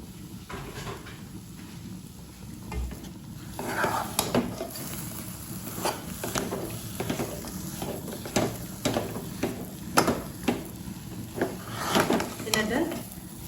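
Cashews and raisins are stirred into a banana mixture in a pan for a nenthrapazham sweet, with soft scraping and occasional utensil knocks against the pan under faint background sizzle and some talking.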